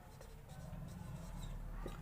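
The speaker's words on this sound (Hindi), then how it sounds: "तो यहाँ लिखेंगे थिकनेस" Pen or pencil writing a class 9 math solution on paper, a soft continuous scratching that runs steadily throughout, close and fairly quiet, with no talk over it.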